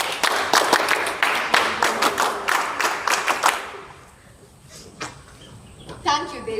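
NCC cadets at a Republic Day celebration clap in a rhythmic, evenly spaced burst of sharp, loud hand claps for about three and a half seconds, then stop abruptly, followed by quieter room sounds and a few scattered claps.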